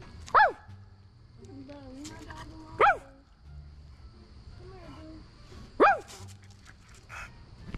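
A big dog barks three times, each a sharp loud bark spaced a few seconds apart, with people talking and moving nearby in a house being decorated for Halloween.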